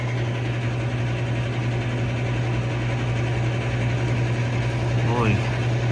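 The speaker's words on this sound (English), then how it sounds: "indoor fan motor." Indoor fan motor of a building's heating unit running as a steady low hum with a constant mechanical drone.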